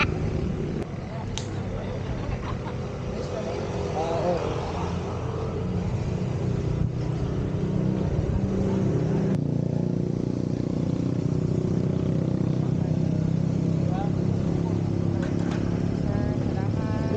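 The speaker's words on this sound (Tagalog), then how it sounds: "Sobrang ingay pa naman ang motor natin." Kawasaki Ninja ZX25R motorcycle on the road, its engine a steady, loud, close drone with rumbling low tones throughout, mixed with wind and muffled rider chatter.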